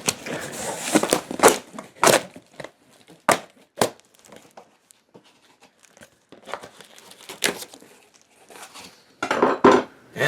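A big knife slices through a stapled cardboard shipping box for a guitar, giving irregular sharp rips, scrapes and crinkles in separate bursts with quiet gaps between, close and fairly loud.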